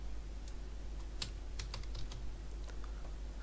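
Typing on a computer keyboard, a short run of quiet, uneven key taps close by over a steady low hum.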